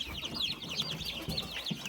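Several newly hatched chicks peep rapidly in high, chirping bursts, close by and overlapping continuously, with no voices.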